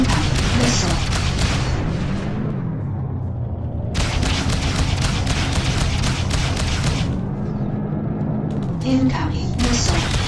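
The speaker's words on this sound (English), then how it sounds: "Impact missile." Missile impacts explode in the space combat game Freelancer during an assault on a Rheinland military installation, heavy booming blasts over a continuous loud rumble, with distinct bursts near the start, middle and end.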